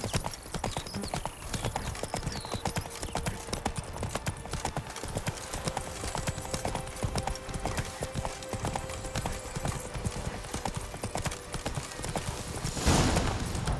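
Hooves of Geralt's horse Roach clip-clop steadily in The Witcher 3: Blood and Wine, a continuous rhythmic trot under dense game ambience, ending in a louder rustling burst.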